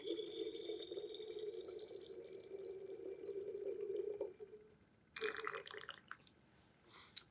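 Water pours steadily into a container for a heat experiment, a continuous splashing fill that stops briefly and then resumes in a short, brighter gush of pouring and mixing.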